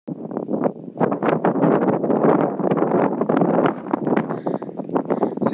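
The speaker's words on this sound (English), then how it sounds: "Seems a bit windy right there" Strong gusty wind at Pine Mountain buffets the microphone in continuous rough bursts, loud and close, with no voices.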